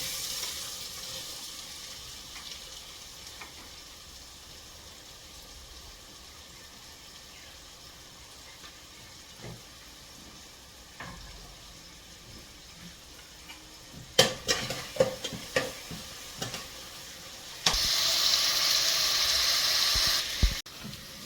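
Chopped onion hits hot oil with cumin seeds, giving a steady low sizzle with clinks of a pan and utensil, then a brighter, louder hiss of frying toward the end.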